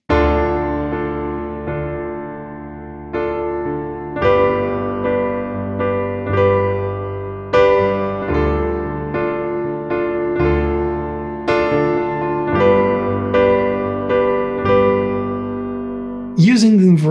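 Piano chords played in inversions, a steady run of sustained chords struck one after another, each ringing and decaying, close and full, ending with a brief sliding tone.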